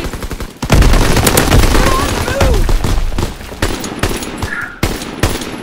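Loud, rapid machine-gun bursts and scattered gunshots fill a Call of Duty WWII multiplayer match on the Groesten Haus map, with sharp repeated cracks and a voice talking faintly beneath.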